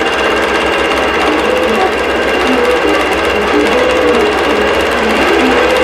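An embroidery sewing machine stitches a tree skirt, its needle running in a fast, steady mechanical drone that stays loud and close without a break.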